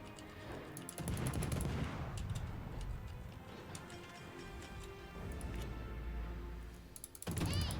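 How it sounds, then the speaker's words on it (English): Enemy gunfire in a video game, heard as a scatter of rapid ticking shots and clicks over a steady low rumble of engine-like game noise, moderately loud with brief louder bursts near the start and end. "But of course he's still choosing to shoot at me."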